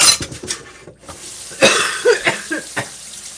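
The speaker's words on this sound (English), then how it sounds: "Choke on my water." Coughing fits from a person choking on water in a home kitchen, several sharp close bursts spread across the moment with faint dish clatter around them.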